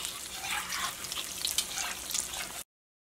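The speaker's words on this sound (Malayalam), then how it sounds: "പക്ഷേ മുട്ട നമുക്ക് പെട്ടെന്ന് വറുത്തെടുക്കാം കേട്ടോ" Egg bajji deep-fries in oil, a soft, bubbling sizzle with fizzy crackles that runs steadily for a couple of seconds before cutting off abruptly.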